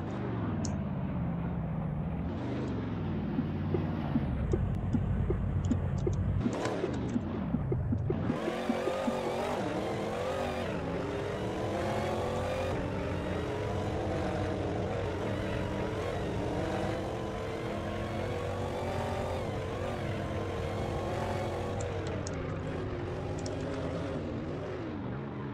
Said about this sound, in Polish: Taki dźwięk ma ten Dodge.